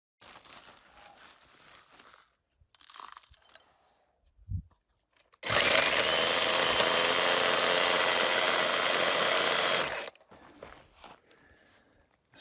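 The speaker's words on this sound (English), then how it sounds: "I'm going to run it through my little homemade angle grinder" A homemade angle grinder chews through mine dump ore outdoors in the desert, a loud, harsh, continuous roar and grind lasting about four and a half seconds. Quieter shuffling and handling noises come before and after it.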